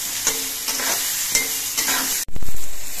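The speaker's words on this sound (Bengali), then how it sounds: "হলুদ দিয়ে বেগুনগুলোকে মিনিট 2 মতো ভেজে নিয়েছি।" Eggplant pieces frying in a pan with turmeric powder, with a constant close sizzle and several scraping stirs, then a louder burst of hissing near the end and no voices.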